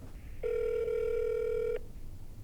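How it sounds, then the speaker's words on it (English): Telephone ringback tone on an outgoing call, one steady electronic tone held a little over a second, clear and close, followed by quiet and the start of another ring. "The phone call."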